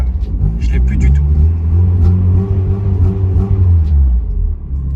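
A Mazda Miata's engine pulls and revs steadily under load, a loud, continuous low drone heard from inside the car, with a few brief noises over it.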